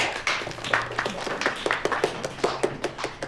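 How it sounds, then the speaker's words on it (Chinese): Office staff give a short, sparse round of hand claps to welcome a new colleague, a handful of distinct claps in an uneven rhythm. "来了个新同事，鼓鼓掌"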